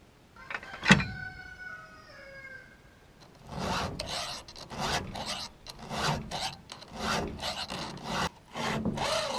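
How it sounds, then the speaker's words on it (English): Hand file rasping across worn chainsaw chain teeth in repeated steady strokes, close and fairly loud, after a brief quieter stretch with a few faint tonal chirps at the start. "I seem to file harder on the left side teeth than the right side teeth."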